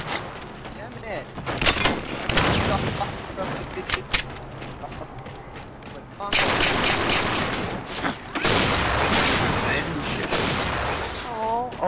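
Rapid gunfire from a first-person shooter match, with dense bursts of shots and booms filling the whole stretch, and players talking over the action.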